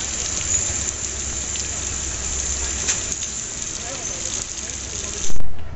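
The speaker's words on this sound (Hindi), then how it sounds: "और बारिश देखो भाई" Heavy monsoon rain falling on a Gandhidham to Bengaluru train, a steady hiss and wash heard from inside a coach at a halt, with a brief loud burst near the end and talk nearby.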